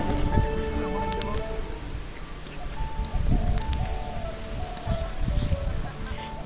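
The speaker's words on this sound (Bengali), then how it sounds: "এই দেখুন প্রচুর পরিমাণে বাতাস হচ্ছে" Strong wind blows through the mountains before a nor'wester storm, a broad rushing roar with gusts rising and falling and rustling sounds, loud and continuous for several seconds.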